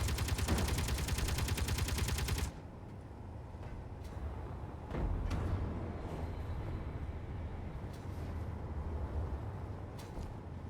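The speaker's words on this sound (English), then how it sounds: "What are we shooting at?" Gunfire in the Space Engineers video game: a sustained burst of rapid automatic shots that stops abruptly, followed by a few sharp scattered single reports over a low ambient hum, with no talking.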